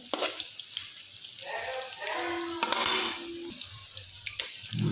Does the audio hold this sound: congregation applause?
no